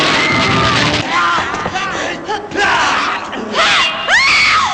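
A woman's loud, shrill screams rise and fall repeatedly over a noisy, chaotic crowd-like background in the 1989 tokusatsu series Kousoku Sentai Turboranger, with several long piercing cries toward the end.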